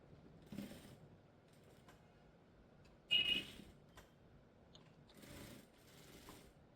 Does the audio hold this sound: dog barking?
no